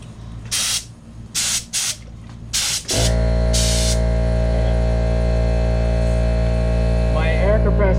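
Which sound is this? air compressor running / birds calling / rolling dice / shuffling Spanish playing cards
air compressor running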